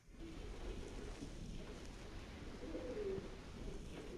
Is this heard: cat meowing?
no